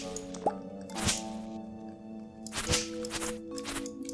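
Watering can watering crops in Stardew Valley: a few wet, slimy splashing plops and drips spaced out over a soft background music bed, fairly close and moderate in volume.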